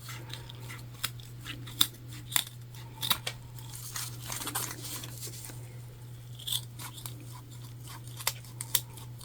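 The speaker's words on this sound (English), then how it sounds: "then we're going to cut off our excess zip tape" Repeated sharp snips of scissors cutting through excess zipper tape on a key fob wallet, irregular clicks and crunches close by with a steady low hum underneath.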